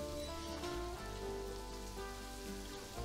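Steady rain falling in the Planet Zoo video game, a continuous hiss of drops on surfaces at an even level throughout, with faint musical tones underneath and no talking.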